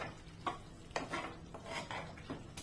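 A metal spoon scrapes and clinks repeatedly against a pan while a dry prawn and potato curry is stirred, giving a rhythmic series of close scraping strokes with no talk.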